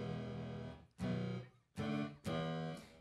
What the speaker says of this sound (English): cool distortion effect. It's very, can be considered very harsh, very digital sounding